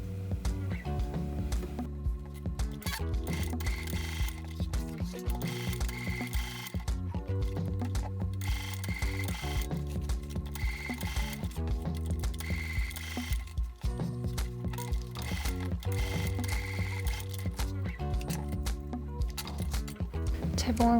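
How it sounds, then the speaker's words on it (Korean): A sewing machine runs slowly through thick bag fabric, stitching in repeated rhythmic bursts with brief pauses between passes, heard close up under occasional quiet talk. "이게 두꺼우니까 천천히 재봉틀을 이용해서"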